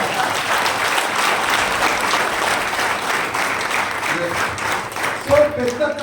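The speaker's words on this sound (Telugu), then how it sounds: "క్లాప్స్ కొట్టండి, కొడితే మీకు ఫుడ్ రెడీ" An audience at a Vestige business opportunity meeting claps steadily and continuously in a hall, with a voice speaking over the applause near the end.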